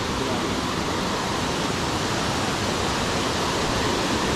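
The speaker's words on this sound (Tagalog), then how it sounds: "So nandito naman tayo sa ilog." A river in full flow makes a steady, loud rushing roar, an even wash of water noise with no pauses from start to end.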